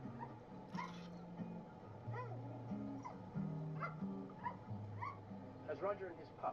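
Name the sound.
dog (pup) barking and whimpering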